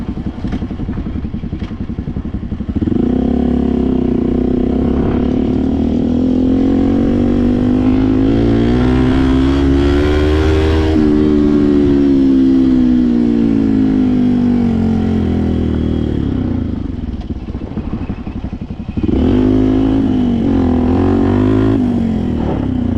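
A Yamaha WR 125 motorcycle engine revs while riding on gravel, pitch rising and falling as it accelerates and eases off, loud and close with wind noise.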